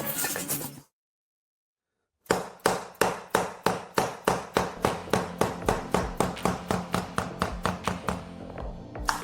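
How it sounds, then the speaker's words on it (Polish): Steady, evenly spaced taps of a rubber mallet on click-type vinyl floor panels laid over levelled tiles, about two per second, close and moderately loud after a brief silence. "stukam to gumowym młotkiem lub delikatnie młotkiem do układania"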